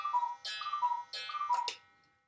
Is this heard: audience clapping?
no